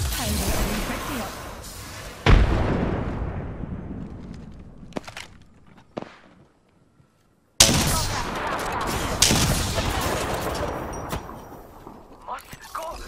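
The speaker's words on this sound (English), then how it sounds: "Frag grenade!" In the battle-royale shooter Apex Legends, a frag grenade bursts with a sharp, loud blast followed by rattling gunfire. Volleys of shots come in clusters, broken by a near-silent gap before the fighting loudly resumes.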